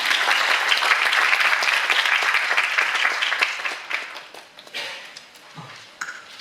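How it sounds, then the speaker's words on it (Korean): A conference audience claps to welcome a speaker, a loud, dense burst of applause that thins out and fades over the final seconds. "박수로 맞이해주세요."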